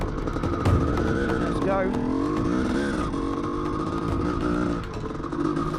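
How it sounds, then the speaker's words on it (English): A CR450 dirt bike engine revving on a farm track, a loud, close, rising and falling motor drone that sweeps up through the gears, with a short spoken line near the start. "ready to do 3 hot laps on board the CR450"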